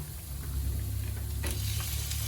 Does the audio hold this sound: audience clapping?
no